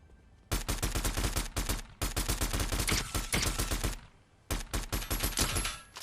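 Rapid automatic gunfire from Fortnite's Zero Build mode, in three long close bursts of tightly spaced shots separated by brief pauses, loud and dense with no speech.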